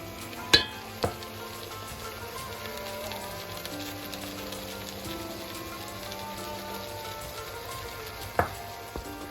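Veal sizzles gently in a pan with ginger paste and Madras curry, a soft continuous crackle with a few sharper spatters and faint utensil knocks, quiet and close over a low background hum.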